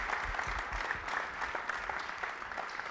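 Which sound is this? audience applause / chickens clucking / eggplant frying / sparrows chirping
audience applause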